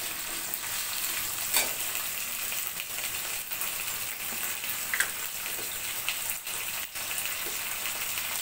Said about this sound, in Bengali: এখন দিয়ে দিব বেটে রাখা আদা রসুন জিরার পেস্ট।